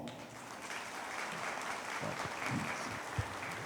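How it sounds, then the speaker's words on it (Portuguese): A room full of people at a credit cooperative's general assembly claps steadily, a dense patter of applause that stays even for several seconds. "também uma salva de palmas."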